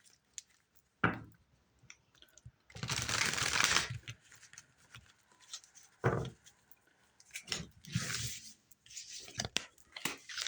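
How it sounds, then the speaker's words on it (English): A deck of tarot cards is shuffled by hand in quick bursts of riffling and soft slapping, separated by short pauses, close and fairly quiet with no speech. "We're going to shuffle these and get the other half of the month for you."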